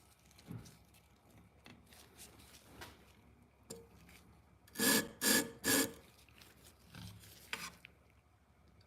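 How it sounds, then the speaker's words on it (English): Three quick rasping strokes of metal scraping as scissors are sharpened, loud and close, after a few faint taps and scrapes. "sharpening scissors is a pretty cool thing"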